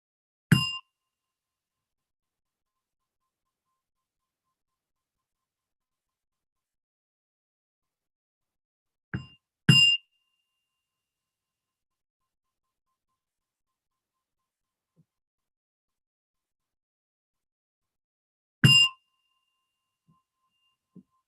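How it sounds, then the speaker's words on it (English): A gong rings out three times to close a mindfulness session, each short, bright metallic strike spaced about nine seconds apart, with near-silence between them and no voices. "as you hear a gong, slowly open your eyes"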